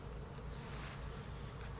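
Honeybees buzz over a hive frame of eggs and nectar during an open hive inspection, a loud, close, continuous swarm drone that stays dense and steady throughout with no voices.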